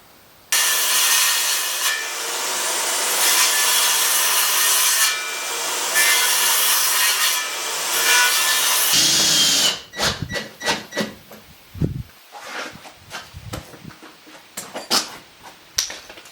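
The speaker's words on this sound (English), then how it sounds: "Now I'll just gouge that out with the skill saw a little bit." A Skil circular saw gouges into a wooden 2x4 with a loud, steady whining cut lasting several seconds, then stops, followed by knocks and clattering of wood being handled.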